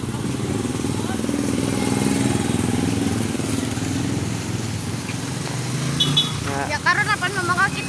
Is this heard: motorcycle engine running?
yes